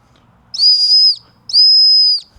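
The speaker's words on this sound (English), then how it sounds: "You can blow the whistle and hopefully somebody hears it and comes and finds you." Two long, shrill blasts from the emergency whistle built into a Roxon Spark multitool, each steady tone lasting about half a second, loud and close with a short gap between them.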